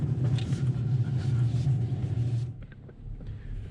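A 2021 Chevrolet Colorado ZR2 pickup drives along a tight snowy trail, its low engine rumble steady and fairly close before fading out near the end.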